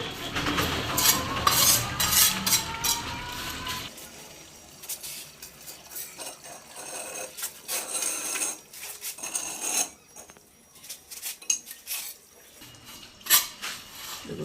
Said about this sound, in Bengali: একটু সিমেন্ট দিয়ে দেবো হালকা করে যাতে না খুলে যায় তাহলে শক্ত হয় এবার দেখুন মশলাটা হালকা করে দেবো